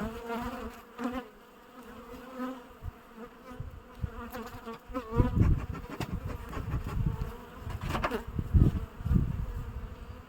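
Honey bees buzz around a hive close by, a low droning hum that swells and fades as insects fly past, growing louder and denser toward the end.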